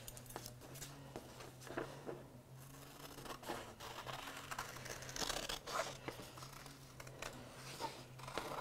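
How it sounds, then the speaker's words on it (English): Scissors cut through colored paper for a children's craft, giving faint, irregular snips and rustling crinkles over a low steady hum, quiet and close, with no talking. "So then you would cut this out of your colored paper."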